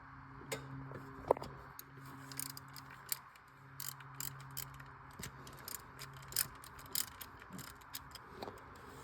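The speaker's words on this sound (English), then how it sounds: "we're going to remove the tensioner. I'm going to use an 8mm or a 5/16" A ratchet wrench with an 8mm socket works the tensioner bolts on a 2011-19 Ford Explorer 3.5 engine during a timing job, giving steady rapid clicking pawl ticks over faint background hum, fairly close, with no talk.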